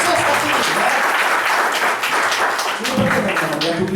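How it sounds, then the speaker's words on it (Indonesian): Audience applause fills a hall during a motivational talk, steady dense clapping from a crowd, close and loud throughout with a voice mixed in underneath. "tepuk tangan dulu buat teman-teman ya"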